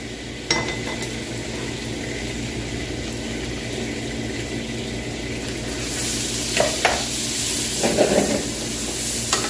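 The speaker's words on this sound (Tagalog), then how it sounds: "igisa ko na po ang ating sibuyas" Chopped onions sautéing in a pan after the meat, a steady sizzle that swells louder midway, with scattered stirring scrapes and utensil clinks against the pan.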